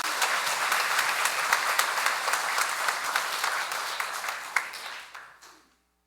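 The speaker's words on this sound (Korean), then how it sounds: "박수 한번 쳐야 되겠죠?" A congregation at Cheongna Catholic Church claps together during an Easter-season Sunday Mass, a dense sustained round of applause that gradually fades out to silence.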